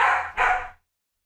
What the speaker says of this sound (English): Benji barking.